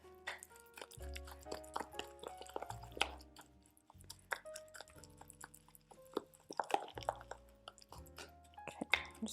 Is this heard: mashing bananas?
yes